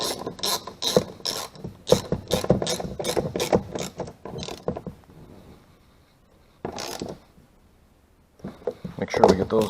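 A ratchet tightens the bolts on an exterior door handle of a 2007–2014 Chevrolet Suburban in rapid, close clicking bursts. Pauses separate the bursts, and a final run of clicks comes near the end.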